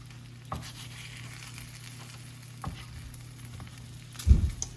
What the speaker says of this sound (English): So it says we need to stir to combine